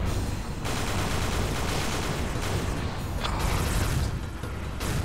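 Grenade blasts and gunfire in the shooter Brutal Heretic form a dense, loud barrage of booms and rattling bursts, with brief gaps between volleys and no voices.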